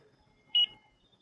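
Low-voltage alert from an E-Flite Habu SS 50 RC plane's transmitter: a single short, sharp electronic beep, close and clear against near silence.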